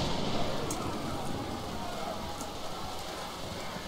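Heavy storm rain pours steadily in an Age of Empires IV Hundred Years' War campaign cutscene, a dense hiss that holds at an even level throughout, with a few faint sharper ticks.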